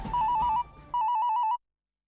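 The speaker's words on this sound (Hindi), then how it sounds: "इस फोन को भी अभी बजना था।" A telephone ringtone sounds in a domestic TV drama scene, two short bursts of a bright warbling electronic tone with a brief gap between them, loud and alone, then cutting to silence.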